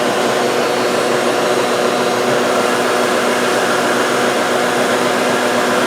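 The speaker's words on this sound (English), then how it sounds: "I'm going to turn on the dust collector here. Actually, it's a shop vac." Shop vac serving as a dust collector in a woodworking shop, a loud, steady broadband whine and rush of airflow running continuously and close by.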